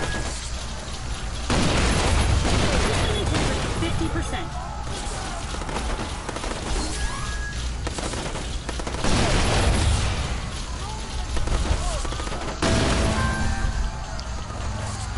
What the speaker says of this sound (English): And I emptied my pistol just to kill 3 guys.